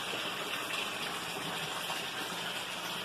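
Water pumps and a biofilter running in an aquaponic fish system in Colombia give a steady gushing, splashing rush of moving water, constant and close with no talking.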